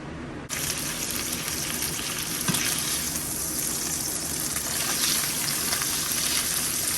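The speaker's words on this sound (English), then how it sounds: "You hear that sizzle?" Steady, loud sizzling and crackling of meat frying fat side down in a hot pan, continuous throughout with no talking.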